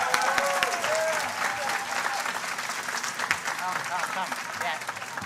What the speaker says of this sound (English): Can we have a round of applause for Miss Orlando?